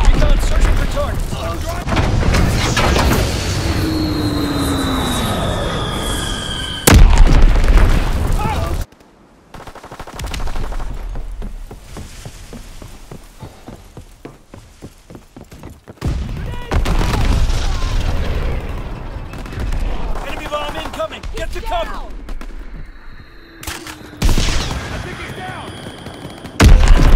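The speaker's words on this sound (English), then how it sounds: "Enemy bomb incoming. Get to cover." Bomb explosions and bursts of gunfire in an online Call of Duty WWII team deathmatch, loud booms and rapid shots in clustered bursts with quieter gaps between, and a voice speaking intermittently.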